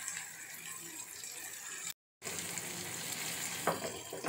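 Goat brain fry masala sautéing in a pan, a steady close sizzle and frying crackle with a brief dropout midway and a few stirring scrapes near the end.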